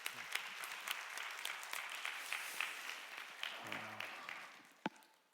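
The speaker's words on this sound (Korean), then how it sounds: "우리 서로 격려의 박수 한번 하겠습니다." Congregation at a church young adults' worship service applauding in encouragement, a lively spread of many claps at moderate level that thins toward the end, with a few sharp individual claps and a brief murmur of voices.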